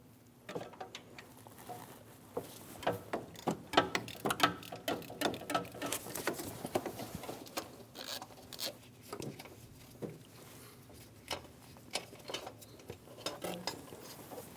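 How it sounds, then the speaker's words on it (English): Ratchet with a 16mm socket turning out the belt tensioner bolt on a 2011-2018 Ram 1500 5.7L V8, a quiet close series of irregular clicks and metallic ticks. "Using a 16mm socket, we're going to remove the tensioner bolt."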